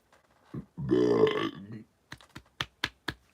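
A single loud, drawn-out burp rumbles close to the microphone, followed by a quick burst of keyboard clicks.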